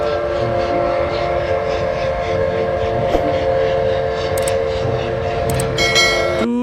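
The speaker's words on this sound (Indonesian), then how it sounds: "Wow, ini kereta api Thomas." Thomas toy train playing its electronic train sounds, a steady mechanical rumble with a sustained horn-like tone, closing with a bright chime-like jingle near the end.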